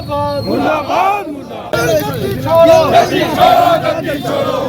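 Crowd of BJP youth wing party workers loudly chanting protest slogans against the Chief Minister at a street demonstration, overlapping voices shouting in rhythmic bursts.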